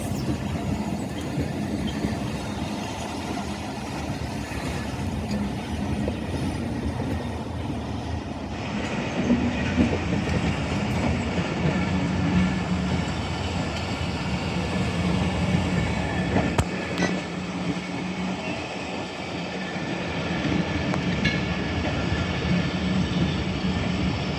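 A train, the Iqbal Express, rolls slowly through Badamibagh railway station, a continuous low rumble with rhythmic wheel clatter and faint squeals at close range, no voices.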